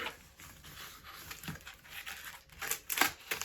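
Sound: crinkling plastic bag while unpacking a parcel

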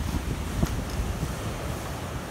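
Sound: ocean waves crashing on a rocky shore

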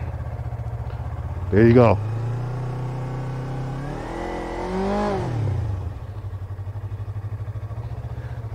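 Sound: motorcycle pulling away from a stop for a U-turn

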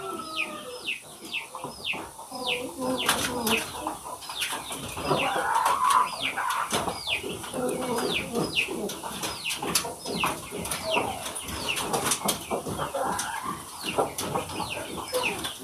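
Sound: chickens

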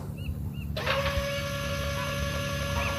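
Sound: wrench turning a rusted part, from the video game The Journey Down

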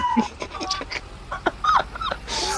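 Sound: dogs barking in Farming Simulator 22 video game

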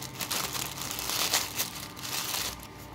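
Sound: small packet being opened and rustled

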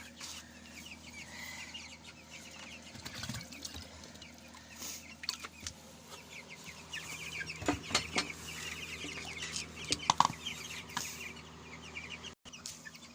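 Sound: broiler chickens clucking as water is poured into their drinker

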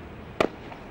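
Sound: sporadic gunfire in the distance

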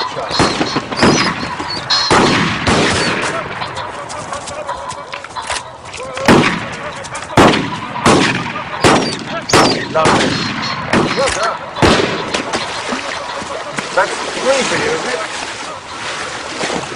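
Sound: gunshots during a shoot

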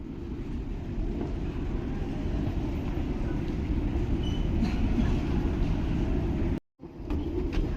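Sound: metro train

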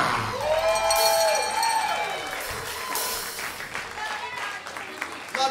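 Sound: concert audience applause

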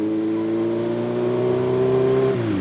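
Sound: motorcycle approaching

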